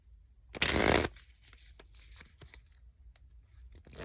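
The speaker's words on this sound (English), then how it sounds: "They said for me to pull a card from this deck." A deck of cards is riffled in one loud, dense burst lasting about half a second, followed by softer scattered flicks and taps as cards are handled up close.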